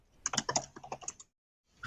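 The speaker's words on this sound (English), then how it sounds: "I hear typing." Quick keystrokes clatter on a computer keyboard in a short burst, then stop briefly before a few more keys are pressed.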